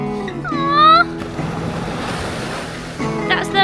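Ocean surf washes up a beach on China's east coast, a steady broad rush of breaking waves with wind buffeting the microphone; people talk briefly over it at the start and end.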